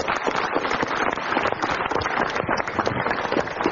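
A studio audience applauds, a dense, even wash of many hands clapping at once that holds for a few seconds without any voice above it.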